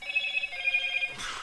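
Electronic telephone ringtone trilling steadily in a repeating pattern for about a second, then cut off by a brief burst of broadband noise.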